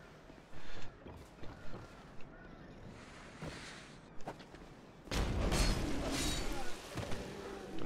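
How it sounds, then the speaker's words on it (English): Fire bombs thrown and bursting in Dark Souls 2: scattered thuds and bangs early on, then a loud sustained fiery roar of explosion from about five seconds onward, with game ambience throughout. "Don't throw fire bombs at me."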